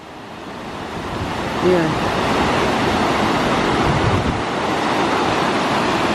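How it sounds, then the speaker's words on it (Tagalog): Strong sea waves surging and washing steadily, a loud continuous roar of surf mixed with wind buffeting the microphone, with a brief spoken word near the start. "Lakas ng alon, no?"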